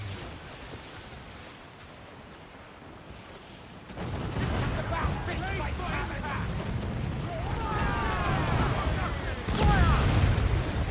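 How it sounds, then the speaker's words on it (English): Mortar shells bursting around a sailing ship in Assassin's Creed Black Flag, a loud rumbling barrage that starts abruptly and rolls on with booming blasts, crashing water and shouting voices over it. "Mortar incoming!"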